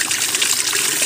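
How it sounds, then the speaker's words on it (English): A washing machine pumps out its rinse water at an off-grid home, a steady, loud trickling gush of water running without pause. "It's pumping the water out now"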